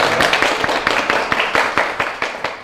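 A lecture audience claps for a university professor introduced as a guest speaker, a dense burst of applause with sharp individual claps that thins out over a few seconds, close and fairly loud.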